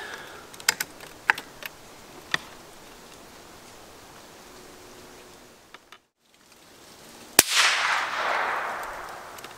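A single sharp, loud crack from a suppressed .22 LR rifle near the end, followed by a hissing tail, after a stretch of quiet with faint scattered ticks.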